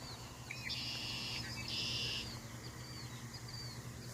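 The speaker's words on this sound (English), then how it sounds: "You hear those birds, isn't it just relaxing?" Birds sing along a nature park trail near open fields: two bright sustained whistled phrases in the middle distance, alone over a steady low hum.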